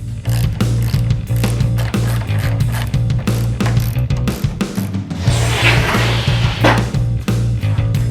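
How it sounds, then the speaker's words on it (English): Lag bolts are driven to fasten swivel casters onto wooden blocks: rapid repetitive ratcheting clicks, loud and close, over a steady low mechanical hum throughout. "Put 4 swivel casters on the blocks with some lag bolts."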